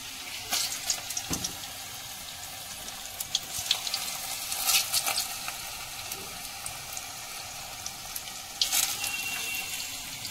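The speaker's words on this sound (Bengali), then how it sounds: "এখন পকোড়াটা তেলে ছেড়ে দিচ্ছি।" Marigold flower pakoras fry in refined oil in a kadai, a continuous close bubbling sizzle with a few sharper crackling bursts over about ten seconds.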